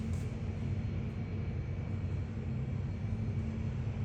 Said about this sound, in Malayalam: അതിലൊരു ATR വിമാനം ആയിരിക്കണം മിക്കവാറും ഇത്.